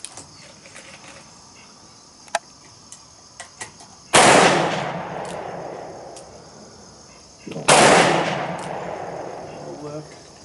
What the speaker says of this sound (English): Try 6 shots right at the center of the silhouette.